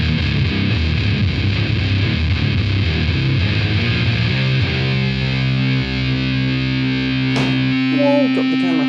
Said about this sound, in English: let's now add the distortion in